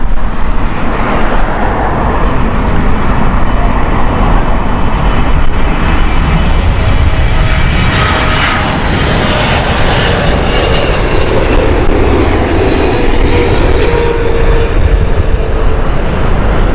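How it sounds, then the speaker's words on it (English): A Saudia Boeing 777 in Formula E livery passes at Heathrow with a loud, sustained jet engine roar, its pitch sweeping gradually as it moves by close overhead. "Saudi 777, this is the Formula E livery."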